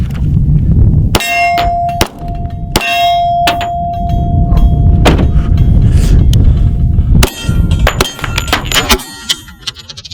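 Kimber 1911 Custom II .45 pistol fired in a series of sharp, loud reports spaced irregularly, each a sudden broadband crack with ringing clang-like tails, over steady background noise.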